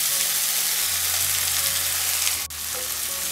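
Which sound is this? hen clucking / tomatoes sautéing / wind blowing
tomatoes sautéing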